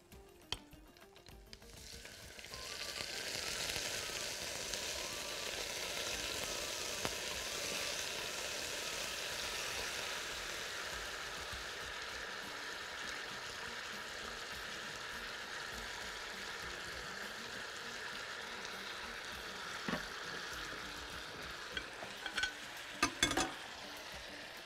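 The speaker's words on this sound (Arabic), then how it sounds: "الزيت وهبتدي بقى احط الفراخ" Chicken drumsticks fry in hot oil with a steady, dense sizzle that builds after a moment and holds for over twenty seconds, broken near the end by a few faint knocks.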